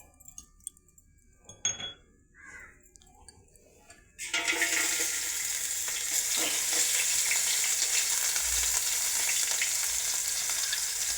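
Crushed ginger, green chilies, garlic and pepper hit hot oil for chicken curry. After a few seconds of quiet clatter comes a sudden loud sizzle, which then holds as a steady close frying hiss.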